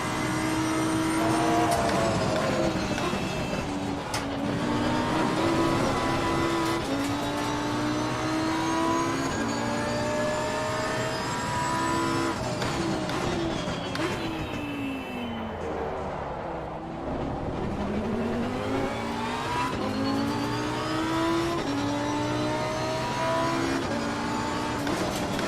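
A Lamborghini race car in Assetto Corsa Competizione runs at high revs, its engine note climbing and falling steadily through repeated gear changes, loud and continuous throughout with no talking.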